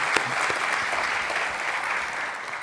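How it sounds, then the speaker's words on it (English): An audience at a university announcement applauds steadily, a dense, even wash of many hands clapping close and loud throughout. "Let's give a round of applause, ladies and gentlemen"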